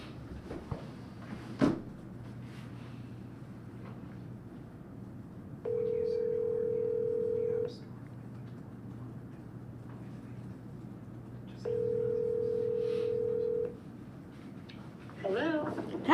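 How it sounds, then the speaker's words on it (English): A telephone line plays a steady dial or ringback tone twice, each lasting about two seconds, while a call is placed in a quiet meeting room with faint background noise. "Should I try calling the phone number?"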